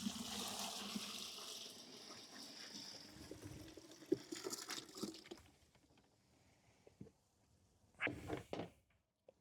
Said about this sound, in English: We're going to pour our tote full of worm tea into this bucket.